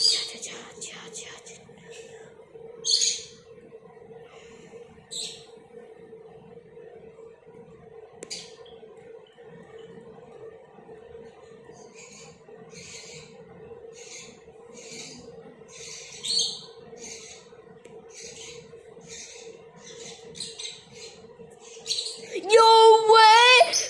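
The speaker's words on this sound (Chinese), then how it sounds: "那小鸟的声音只是那些小鸟在叫" Small birds chirp in short, scattered bursts over a steady low hum, with quiet whispery voices in the background.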